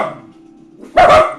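A dachshund lets out a single sharp, loud bark near the end after a quiet moment, close to the microphone and heard alone.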